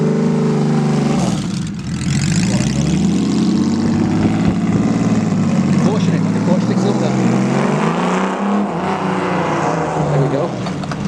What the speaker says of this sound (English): someone's going to fire a 6-cylinder bike up